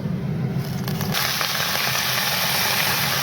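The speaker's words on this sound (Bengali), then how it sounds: "এখন এই কপিগুলো চলে যাবে তেলের মধ্যে" Drained cauliflower pieces drop into hot mustard oil and burst into a loud, steady frying hiss that swells after the first second and continues close and unbroken.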